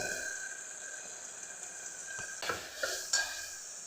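Cabbage with chilli powder, coriander powder and biryani masala sizzles and fries in a pan, a steady hiss with a few louder stirring scrapes near the end.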